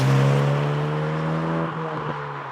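A Hyundai i20N hot hatch driving through the small town of Ruthin, its engine a steady close hum that dips slightly near the end, with no talk over it.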